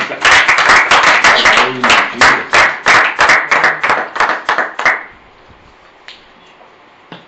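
A church congregation claps together in loud, dense applause for about five seconds. The clapping then stops, leaving a near-silent hall with a couple of faint scattered sounds.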